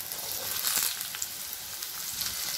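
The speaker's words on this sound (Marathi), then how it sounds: "यामध्ये आता हे दोडके टाकायचे।" Chopped ridge gourd dropped into hot oil with a ginger, coriander and garlic paste for a Maharashtrian curry, giving a close, steady hissing sizzle with a few soft knocks, no talk.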